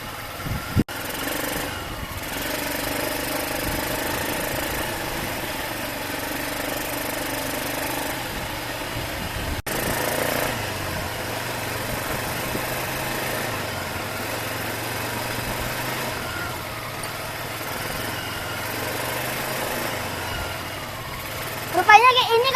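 ATV engine running steadily during a ride with passengers aboard, a continuous mid-pitched drone that shifts slightly in pitch partway through, with voices talking over it and a few louder bumps near the end.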